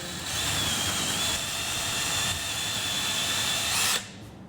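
Power drill boring into wood for a sofa server at slow speed gives a steady, close whine for about four seconds before stopping abruptly.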